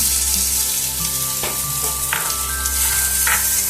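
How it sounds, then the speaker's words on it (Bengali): Steady, close sizzle of chopped onions frying in mustard oil in a wok, with a few scraping stirs and light clinks over the continuous crackle. "কড়াইটা গরম হলে ওর মধ্যে চার চামচ সর্ষের তেল দিয়ে দিল দিয়ে দিল পেঁয়াজ কুচি"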